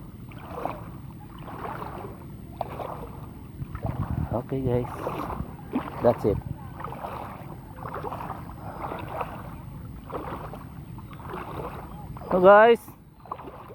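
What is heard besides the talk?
boats on the water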